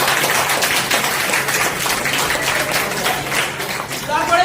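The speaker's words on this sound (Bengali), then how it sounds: "হাততালি কোথায়?" An audience at a marketing training session claps in a sustained, dense round of applause, loud and steady throughout, with a faint voice mixed in.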